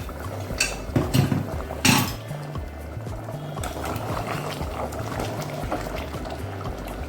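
Mutton curry simmers in a covered pot, bubbling softly and steadily at close range, with a couple of sharp clanks of the lid or utensils near the start.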